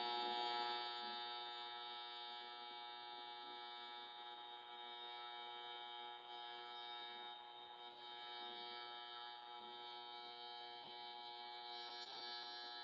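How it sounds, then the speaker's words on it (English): Pipe cutting machine making its first cut into a pipe, a steady, high-pitched mechanical whine with many harmonics, continuous and fairly close, with occasional faint clicks; no voices. "So right now the pipe's actually making its first cut."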